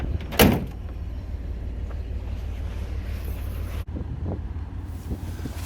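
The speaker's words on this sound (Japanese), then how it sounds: "これまた二重にロックがついた扉を開けていきます" The double-locked door of an M262 diesel railcar clunks open near the start, followed by a steady low rumble of vehicle and wind noise, with a brief sharp click later.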